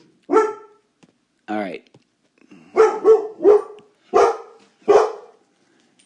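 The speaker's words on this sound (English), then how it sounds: "My dog is barking in the background there." A dog barks in several separate bursts, a few single and some in quick pairs, moderately close; a person briefly speaks between them.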